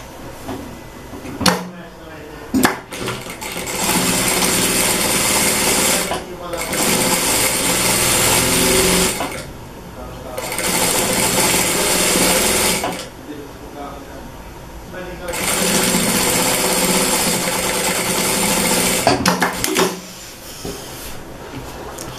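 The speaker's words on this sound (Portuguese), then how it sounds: "E vou passar uma costura na beiradinha, igual eu fiz embaixo," Sewing machine stitching along the edge of a Seminole patchwork dish towel, a steady whirring hum running in several long stretches separated by pauses and a few clicks and handling sounds.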